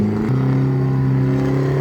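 A small wooden fishing boat used for gathering tiny shrimp runs its engine in reverse, a steady loud droning hum that drops in pitch after a short moment and then holds evenly.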